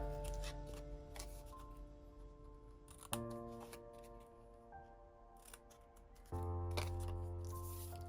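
Small scissors clip the corners of paper pieces for a Halloween mini album, a few faint snips and rustles under a steady background hum that shifts pitch.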